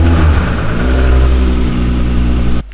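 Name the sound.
VW Golf VR6 engine starting, with engine damage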